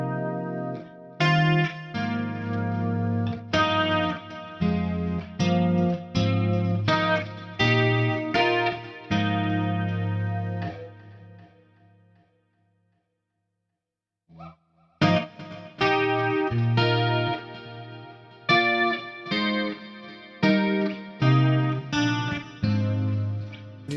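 Electric guitar played through an 80s factory preset on a Fractal Axe FX with chorus and delay, bright shimmering strummed chords and picked phrases, a pause of near silence midway, then more chorused playing.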